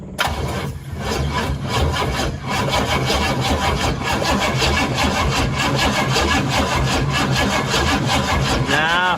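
A 1962 Cadillac with a swapped-in 500ci engine, lacking spark, cranks steadily for about nine seconds without catching, giving an even rhythmic churn. A brief spoken word is heard near the start.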